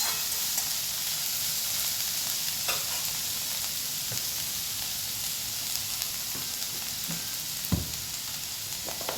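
Steady close sizzle of something frying in hot oil without turmeric, continuous spitting crackle with occasional louder pops and stirring scrapes throughout, no voices.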